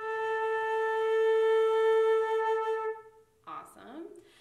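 Flute holding a single sustained A natural note, clear and close for about three seconds before it stops, followed by a brief breathy sound.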